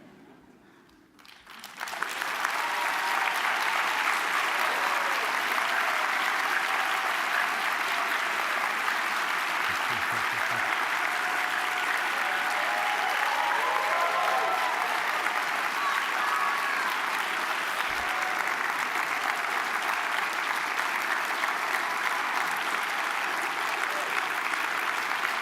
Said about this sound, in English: John, you were so wonderful that we've clapped